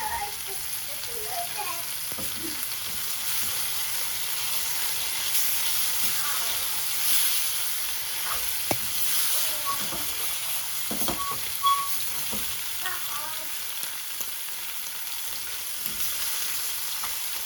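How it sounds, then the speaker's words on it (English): Leftover lamb spiced with garam masala, coriander and cumin crisps in hot oil in a pan, a continuous, even sizzle with occasional faint clinks and brief stirring sounds. "I'm going to try and make the lamb a bit crispy as well"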